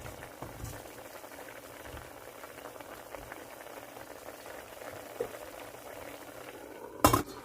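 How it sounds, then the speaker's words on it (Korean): Water boils steadily in a steamer pot while shishito peppers steam inside. The bubbling hiss is quiet and continuous, ending with a sharp metallic clink near the close. "물이 끓으면 찜솥에다가 버무린 꽈리고추를 넣고 살짝 쪄줍니다."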